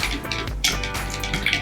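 White acrylic paint is stirred into water in a jar, a close, busy sloshing and clinking of liquid against glass throughout.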